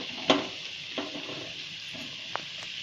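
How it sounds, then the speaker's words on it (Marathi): Spinach pakodas fry in hot oil with a soft steady sizzle, broken by a few distinct clinks and scrapes from turning them in the pan, close by and with no voices. "आता आपले भाजत आलेत पकोडे, चांगले तयार होत आले."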